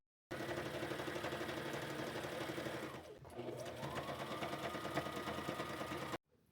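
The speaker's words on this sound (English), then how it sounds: "sew these down to the crotch first" A sewing machine stitching fabric pieces cut from a sheet and a jumper: a fast, steady mechanical whirr with a brief slowdown midway before it runs on again, close and alone.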